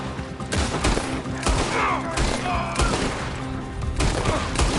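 A Red Dead Redemption 2 firefight rings out with loud, repeated gunshots in irregular bursts, some overlapping, and a few shouted voices mixed in beneath the shooting.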